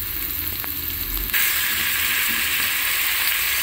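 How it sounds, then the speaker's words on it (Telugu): Chopped tomatoes and curry leaves hit hot oil in a pan, a soft stir followed by a sudden loud, bright sizzle that continues steadily to the end. "ఇప్పుడు నేను చాప్ చేసుకున్న టమాటోస్ అండ్ కర్రీ లీవ్స్ అయితే వేసాను. కాస్త కలిపేసుకుందాము."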